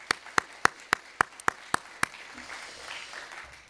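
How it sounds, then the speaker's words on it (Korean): Eight slow, evenly spaced claps ring out loud and close at a Korean Sunday church service, given in encouragement of the Hosanna choir. Quiet room tone follows the claps. "다시 한번 호산나 성가대 격려의 박수 올려주시기 바라겠습니다."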